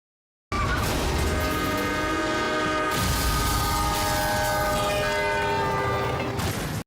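A northbound train rushes toward a level crossing, its loud horn blaring continuously over the roar and rumble of the rolling cars, with a brief shift in the sound partway through.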